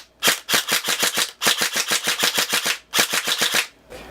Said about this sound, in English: So this is Carlos's DMR on semi-auto.